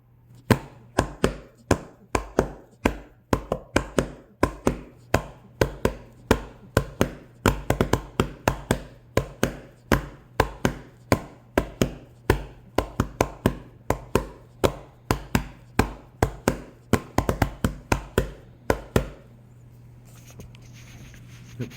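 A Korean drum struck in a steady series of sharp, resonant hits, repeating a rhythmic line at close range with no talking, ending in a brief quiet tail.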